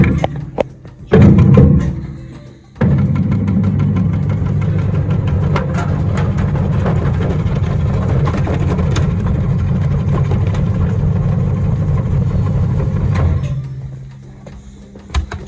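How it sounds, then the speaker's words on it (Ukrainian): STve combo slicing machine cutting beetroot into round slices, a motor starting with a thump and running as a steady mid-low mechanical hum with faint rattling, then cutting off near the end. "Машина комбо нарізаємо буряк."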